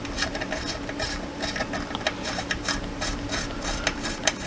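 A hand screwdriver driving screws into threaded ASA plastic corner blocks, producing quiet, close ratcheting clicks and small creaks in an irregular rhythm, faint throughout with a slightly sharper click near the end.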